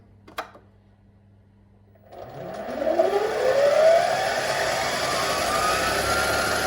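A mini metal lathe winds up to a higher spindle speed, its motor whine rising steadily in pitch after a quiet start and a single click, then holding a loud, even, near tone as it turns metal.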